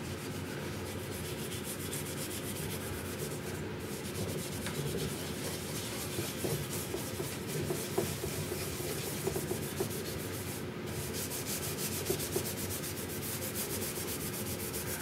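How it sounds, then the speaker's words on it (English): Steady, continuous scrubbing against the leatherette covering of a Gerstner box, a dry, even rubbing hiss that keeps up at close range for the whole stretch with no talk over it. "So all I do is scrub this on until it reactivates."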